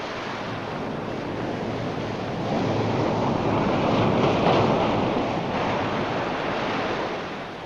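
Ocean waves wash onto a dark beach in a continuous rushing surf that swells louder midway and eases off, with wind noise and no voices.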